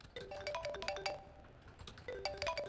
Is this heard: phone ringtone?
yes